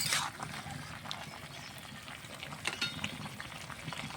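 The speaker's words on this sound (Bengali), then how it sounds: "আর তরকারিটা সুন্দরভাবে ফুটছে, আবার ঢাকা দিয়ে দেবো।" Curry bubbling in a pot on the stove, a soft continuous simmer with faint irregular pops and a light clink of utensils, quiet and close.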